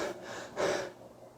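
A person imitates hyperventilation with a few quick, breathy gasps and pants, close and fairly soft, the second breath louder than the first.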